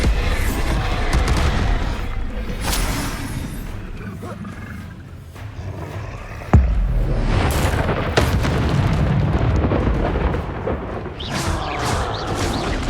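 Booming spell blasts and roaring impacts from Hogwarts Legacy combat, including a Bombarda explosion, a dense loud rumble with one sharp hit near the middle amid ongoing battle noise.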